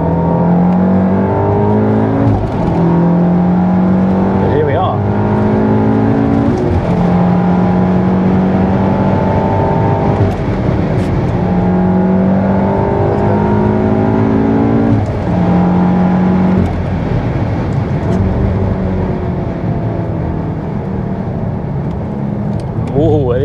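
A Stage 3 Volkswagen Golf R laps Silverstone race track, its engine droning loudly from the cabin and rising and falling in pitch through repeated gear changes, with other cars on track.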